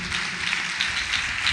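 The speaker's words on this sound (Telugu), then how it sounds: "గట్టి, బిగ్గరగా ఒక చప్పట్లు కొట్టండి" A church congregation at a Hosanna Ministries service claps together, a steady wash of applause from many hands that fills the whole short moment at moderate volume.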